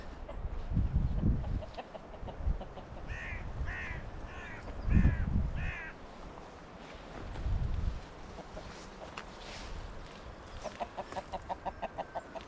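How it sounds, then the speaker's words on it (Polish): Several short crowing calls from a rooster in bushes in the middle distance on the island of Jersey, with hen clucking and rustling outdoors and a faint rhythmic chirping toward the end. "Mamy koguta w krzakach."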